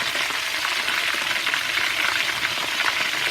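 Food frying in a generous amount of oil in a pan, stirred steadily, gives a dense, continuous crackling sizzle that stays close and loud throughout, with no talking.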